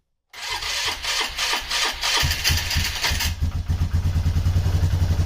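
A Polaris Trailblazer ATV, choked on a chilly day, cranks and catches on its first start, then settles into a loud, close, rhythmic idle that steadies as it runs.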